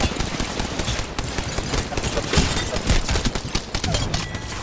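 Rampage light machine gun hip fire in Apex Legends rattles in a rapid, continuous burst of loud gunshots, steady and close throughout.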